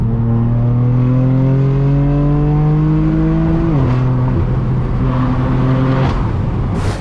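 Straight-piped BMW M4 F82 exhaust, a loud, close, droning tone that climbs steadily, dips and then steadies, with a brief burble near the end.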